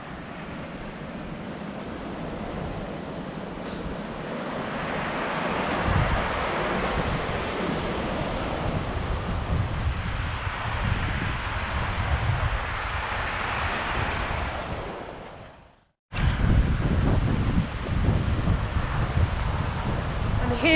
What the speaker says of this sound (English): we're standing by the beach